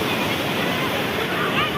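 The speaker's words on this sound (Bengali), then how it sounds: "দেখো সেই ঢেউ আসছে" Sea waves surging onto Puri beach, a steady broad wash of surf with wind noise across the microphone, continuous and fairly loud, with no clear separate break standing out.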